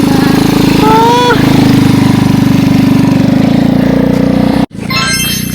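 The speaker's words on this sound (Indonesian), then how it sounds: "Lihat orang naik motor." A motorcycle engine runs steadily and fairly loud on a hiking trail in Plunyon, Kalitalang, with a rough, rapid pulsing drone throughout, briefly cut off near the end before resuming, while people talk over it.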